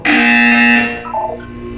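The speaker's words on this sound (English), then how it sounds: "You will hear a buzzer" A loud, harsh electronic buzzer from the video game Portal 2 blares in one sustained burst for nearly a second, then falls away into a couple of softer, lower tones.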